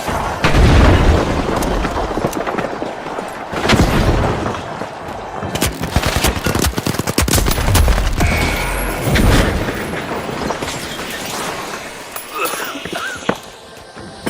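Grenades detonate in the shooter game THE FINALS with repeated heavy booms mixed into rapid gunfire and clattering action, loud and continuous throughout, while voices talk over the chaos.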